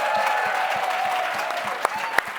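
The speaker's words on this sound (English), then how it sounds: "Can we give her another round of applause?" A live audience in Brooklyn applauds Amy Goodman with steady, dense clapping and a few sharp claps standing out near the end, carrying on throughout without a pause.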